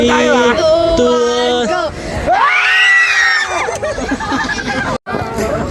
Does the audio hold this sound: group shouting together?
yes